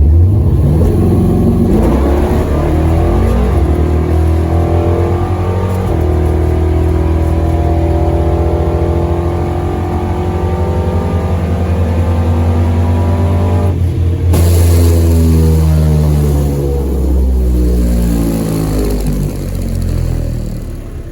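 A race car engine idles and revs continuously, loud and close, with rising and falling pitch sweeps and a sharp burst of throttle partway through, no talk.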